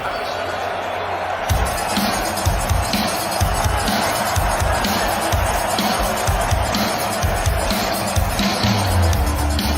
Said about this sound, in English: As you can hear, it is a Jake Paul friendly crowd